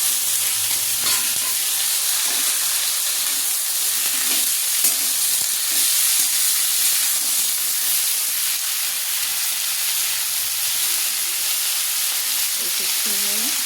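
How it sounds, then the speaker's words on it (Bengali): Vegetable stalks and potato frying in oil in a pan, a dense, bright continuous sizzle close by, with occasional soft stirring knocks and no speech. "প্রথমে ডাঁটাটা ভাজবো। ডাঁটার সঙ্গে আলুটাও দিয়ে দেবো।"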